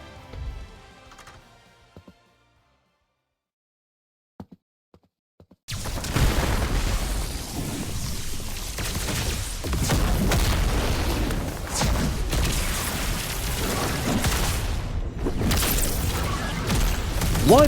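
Ultimate attack effect in the Heroes Battlegrounds video game, a sudden loud, dense burst of booming, crackling blasts resembling rapid gunfire that fills the second half after a near-silent lead-in with a few faint clicks.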